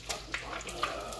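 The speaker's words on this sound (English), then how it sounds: "Grease is popping everywhere." Hot grease pops and spits in a pan while tacos fry, sharp scattered crackles over a soft steady sizzle, heard up close.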